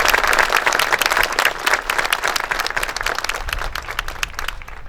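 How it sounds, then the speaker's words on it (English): An audience at a Harrison Junior School building dedication and ribbon-cutting ceremony applauds the teachers and staff, a steady wash of many hands clapping that gradually softens toward the close. "Let's give them all a round of applause."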